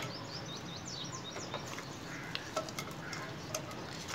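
A large sliced onion fries in four to five tablespoons of hot oil, giving a soft, even sizzle with scattered light clicks of a spoon stirring; the sound stays quiet and nobody talks.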